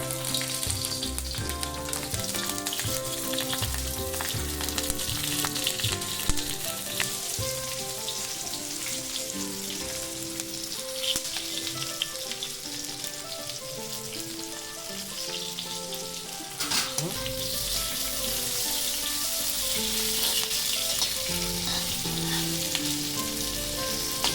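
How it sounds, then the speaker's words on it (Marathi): Stuffed green chillies fry in oil over a low flame, giving a continuous dense sizzle and crackle that stays steady and close throughout, with faint stirring now and then. "तर या सर्व मिरच्या आता आपल्याला तेलामध्ये चांगल्या अशा भाजून घ्यायच्या बारीक गॅस करून"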